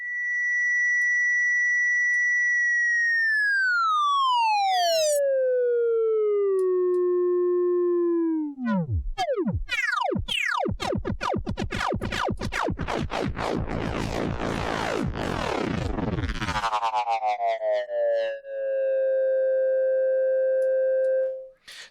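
Pitch-shift delay feedback effect from a free VST plugin: sustained sine-like tones sweep downward, then break into a dense flurry of spinning, twisting tonal repeats before settling into steady stacked tones, loud and electronic throughout.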